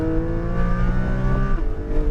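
A Porsche Cayman GT4 on a road course, engine droning steadily under throttle with a rich, harmonic-laden tone heard from inside the cabin, pitch holding then dipping slightly toward the end.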